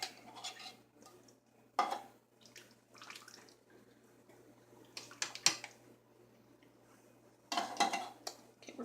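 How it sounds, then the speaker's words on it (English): A spoon scraping and clinking through chicken and dumplings in a pot, in irregular bursts of wet stirring and metal knocks, close and moderately quiet. "Okay, we're going to stir this in."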